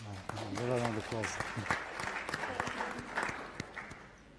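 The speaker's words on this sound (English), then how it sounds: "A round of applause." Audience applause at a sustainable entrepreneurship forum, a burst of clapping from a seated crowd that swells early and then thins into scattered claps, with a voice talking over it near the start.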